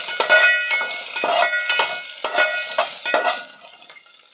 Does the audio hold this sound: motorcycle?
no